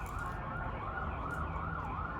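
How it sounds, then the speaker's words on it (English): Police sirens wail near downtown in a city, a steady rising and falling tone over low traffic rumble, moderately loud and continuous. "So you're going to hear the police sirens."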